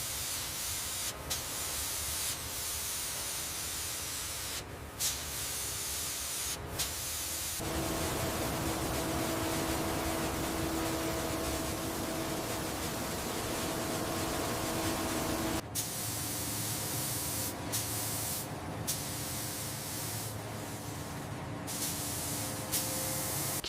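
Paint spraying during a 100-year-old ship restoration makes a continuous, close hiss with brief interruptions and changes in pressure as the spray gun starts and stops.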